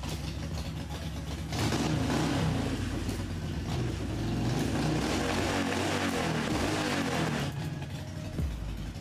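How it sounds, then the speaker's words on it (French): A car engine revs hard and holds a sustained roar for several seconds, then drops back near the end, heard close and loud with no talking over it. "un autre petit coup de moteur"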